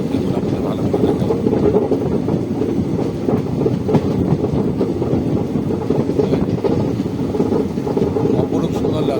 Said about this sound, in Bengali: দেখুন কি সুন্দর ট্রেনটা জঙ্গলের বুক চিনে যাচ্ছে।